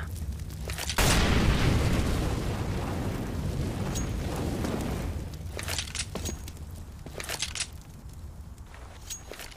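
In CS:GO, an incendiary grenade bursts into a sustained roaring, crackling fire that fills the clip after a sudden onset, with scattered sharp clicks and footsteps over the blaze.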